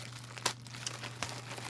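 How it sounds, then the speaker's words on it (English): Plastic bag crinkles in a few short, faint rustling bursts as a thrift store kit is pulled out, over a low steady hum. "I am pulling it out of the bag so I can take a better look at it"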